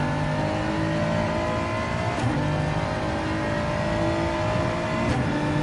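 A race car engine in a video game howls loudly and steadily while accelerating through a lap, pitch climbing gradually with a couple of brief shift breaks, no voices.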